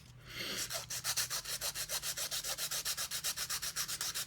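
A polygel nail being filed, a close, quiet rasping with fast, even back-and-forth strokes, about five or six per second, continuing steadily with no talk.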